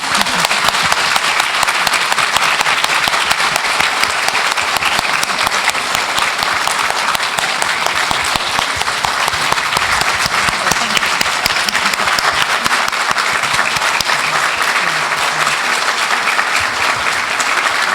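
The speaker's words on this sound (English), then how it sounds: "join me in giving Vanita a round of applause." Sustained, dense audience applause fills a large conference hall at a women's business conference in Dallas, steady and loud throughout with no break.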